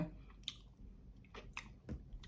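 Someone eating a peeled orange up close, with soft wet squishes and chewing sounds in several short bursts separated by quiet pauses.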